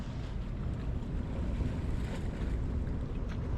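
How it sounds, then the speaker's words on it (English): Ocean swells break against a brick harbour wall in high wind and heavy surf, a steady loud roar of crashing water and gusting wind that fills the whole stretch with no voices. "the swells are hitting the brick wall"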